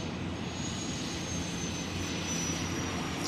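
A Ghia turbine car's engine runs at a racing event, producing a steady, distant, airy jet-like whoosh with a faint high whine, holding evenly throughout.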